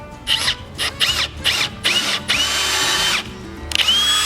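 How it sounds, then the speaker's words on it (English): A power drill whines in short repeated bursts while drilling pilot holes, then runs in one longer steady stretch before another burst; close and loud, with no talking. "What I'm doing right now is drilling pilot holes."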